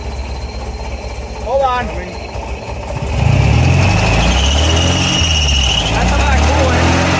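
An MGB GT engine with a newly upgraded exhaust idles roughly up close, then settles into a louder, steadier low rumble, while people talk over it.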